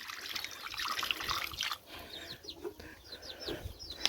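A rabbit's water container is rinsed under running water: a soft, steady trickle and splash, faint and close, with chickens and birds clucking and chirping in the background.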